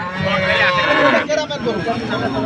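Bullocks at a busy open-air cattle market in Panchbibi, Joypurhat, give a loud, close moo that rises and fades in one long call, with people talking in the background.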